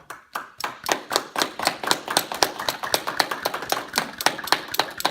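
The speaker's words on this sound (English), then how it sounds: "Other points of laughter yoga involve clapping, where instead of the typical clapping we might see elsewhere, it's palm to palm to activate certain acupressure points" Palm-to-palm clapping during a laughter yoga session, a brisk, steady run of about twenty sharp claps heard close and alone.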